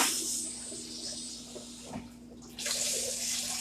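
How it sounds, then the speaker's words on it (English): Tap water runs into a pot in a home kitchen, a steady close hiss that dips briefly midway before surging back stronger and brighter. "all I'm going to do is fill the pot"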